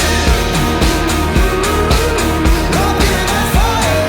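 The song plays loud and full as a reference track for mastering, with a steady driving beat and a melodic vocal line throughout.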